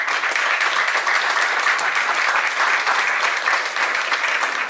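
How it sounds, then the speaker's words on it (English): Audience at an education forum gives the panelists a sustained round of applause, dense and steady clapping from a sizeable crowd filling the room at an even, loud level without speech. "thank our panelists as a round of applause for coming today"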